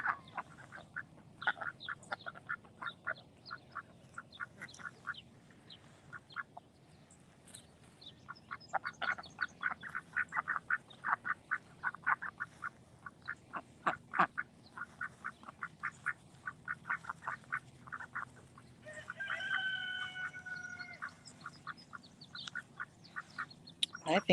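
Ducks quack repeatedly beside a garden pond, a busy run of nasal calls at close to moderate distance with brief pauses and a few drawn-out squawks, while a person speaks quietly at times.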